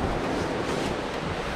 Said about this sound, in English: scary waves there